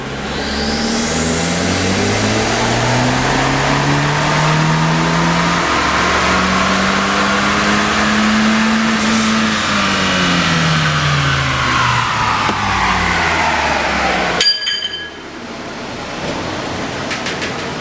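Turbocharged car engine on a dyno at factory full boost, revving loud and steady as pitch climbs and sweeps, then cutting off abruptly near the end, close and alone.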